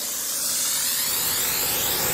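A waste oil burner nozzle sprays atomized fuel mist in a steady, broad hiss that builds slightly in loudness and holds continuously, close up with no talking.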